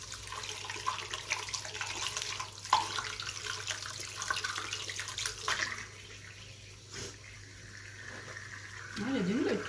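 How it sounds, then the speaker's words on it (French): Lukewarm water runs from a tap while skin is rinsed with a washcloth, a continuous faint splashing and trickling with soft cloth movements and a voice speaking intermittently over it. "Donc, je vais prendre une gant pour rincer."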